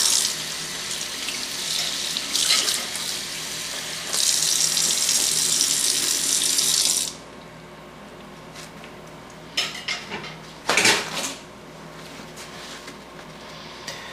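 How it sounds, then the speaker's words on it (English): A venison chop is rinsed under a running kitchen tap, a loud steady gush of water splashing into the sink for several seconds, then quieter handling clatter and brief bursts of water after the flow stops. "I just give it a nice little rinse."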